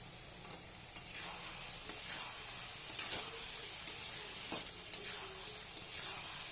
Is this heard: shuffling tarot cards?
no